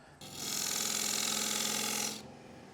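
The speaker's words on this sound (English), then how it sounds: "start parting this top lid off on the bottom side of the tenon" A lathe parting tool cuts off the top lid of a turned wooden box below the tenon, giving a steady, loud, continuous rasping scrape that starts abruptly and runs unbroken for about two seconds before stopping.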